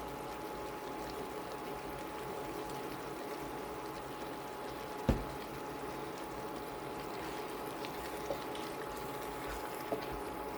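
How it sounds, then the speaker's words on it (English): Sausage, potato and vegetable skillet simmering in one pot, a steady low bubbling hiss that runs evenly throughout, with one sharp knock midway and a few faint clicks, and no talking. "going to let that simmer just a little bit"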